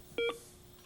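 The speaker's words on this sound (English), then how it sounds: "But I'll just press Set to insert John into the phone book." A single short electronic keypad beep sounds as the Set button is pressed on a 1990 Canon Navigator HD40 phone, clear and close against a quiet background.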